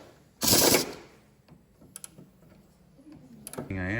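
Bolts tightened on a Mazda Miata suspension: a loud, short burst of rapid mechanical rattling, then scattered clicks and ticks of the tool, and a voice begins speaking at the very end.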